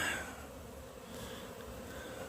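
Honey bees hum around a six-frame beehive, a soft continuous drone with a faint high whine, steady and moderately distant without any voices.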